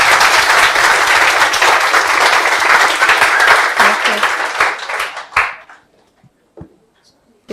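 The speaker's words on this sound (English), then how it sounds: "Please have a good round of applause." At a UPSC topper's talk event, an audience claps in a loud, dense burst that holds for about five seconds, then dies off into a few isolated claps in near silence.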